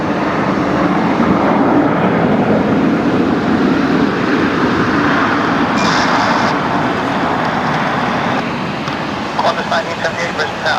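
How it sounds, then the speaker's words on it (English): A Velocity Boeing 737-700 touches down on runway 19 left at Brisbane Airport at night, a loud, broad engine roar rolling steadily, with a brief sharper burst partway through and clicky noises near the end. "So one of the Velocity 737-700s is touching down there and 19er left"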